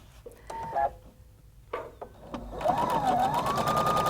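A Husqvarna Viking Designer Brilliance 80 sewing machine gives a few short electronic beeps and clicks, then starts stitching with a steady rapid whirring hum that rises in pitch and holds, close and alone.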